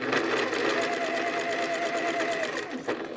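Close and steady, a sewing machine hums through a continuous run of rapid stitches while piecing an AccuQuilt Winding Ways quilt block, slowing slightly toward the end.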